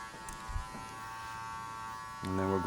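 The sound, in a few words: electric hair clippers blending a fade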